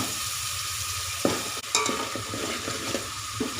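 Onions sizzle steadily in hot oil while a utensil scrapes and stirs the pan a few times, with occasional clinks; no talking.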